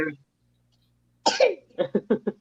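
A single harsh cough close by, followed by a quick run of short throat-clearing bursts, with a brief voice sound just before.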